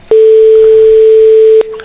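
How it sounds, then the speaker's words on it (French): A single long electronic telephone ringing tone on a radio phone-in call sounds loud and steady for about one and a half seconds, then cuts off abruptly, with quiet background before and after. "Elle a une jolie sonnerie déjà."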